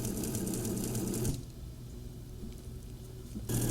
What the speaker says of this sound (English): Now I'm going to use the triple stitch along the edge